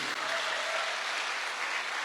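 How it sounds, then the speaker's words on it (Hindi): Audience clapping at a formal gathering, a dense, steady wash of applause that holds evenly for about two seconds with no voices on top. "एक जोरदार तालियां होनी चाहिए।"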